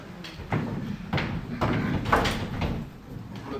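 A locked door is rattled and tugged repeatedly, about six firm knocking jolts in a quick uneven rhythm, close and fairly loud with no voices.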